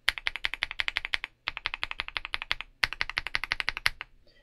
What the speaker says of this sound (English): So let's hear what the CIY Naraka sounds like first.